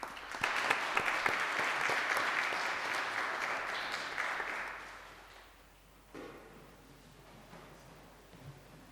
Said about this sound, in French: Merci aux animatrices de chant. Un grand merci. On peut les applaudir.